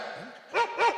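A person imitates a dog, giving two short, loud barking yelps close by after a moment of low murmuring.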